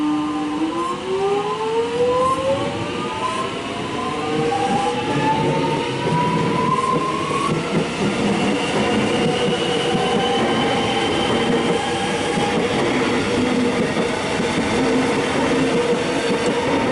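A Melbourne suburban train pulls away from Laburnum station, its motor whine rising in pitch as it accelerates, followed by steady rolling wheel rumble and rattle, close and loud.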